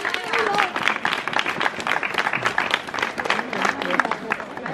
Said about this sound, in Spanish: un aplauso para el artista